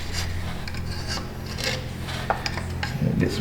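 A carbide scraper rasps gunk and crust off the head of a Chevy Cruze engine in short, close, gritty strokes, repeated several times without pause.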